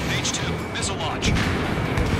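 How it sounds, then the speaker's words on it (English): Missile launch in the Ace Combat 7: Skies Unknown flight game, a dense rushing roar with low rumbles and sharp bursts, heard under radio chatter. "Missile launch."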